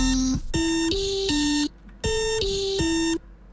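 Electronic alarm in the video game Friday Night Funkin: a loud, bright, steady beeping tone that shifts pitch slightly between notes, sounding in two bursts of several beats each with a short gap between them.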